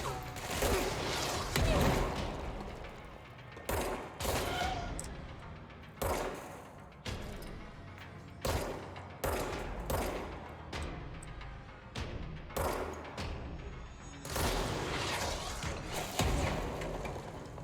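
Repeated bursts of gunfire in the video game Control, loud sharp shots in clusters with brief pauses, mixed with game mechanisms and thuds, no talking.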